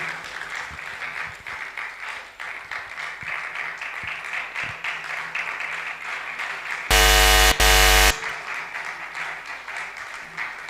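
Audience applause at a performance welcoming a performer, steady clapping throughout, interrupted midway by a loud, sustained electronic buzzer-like tone lasting about a second.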